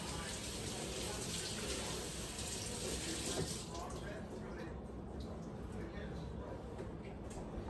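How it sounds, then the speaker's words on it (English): Tap water runs steadily into a kitchen sink as a piece of pea meal bacon is rinsed, loud and continuous for the first half, then easing off into a softer trickle with faint handling sounds. "Let me rinse this other piece off."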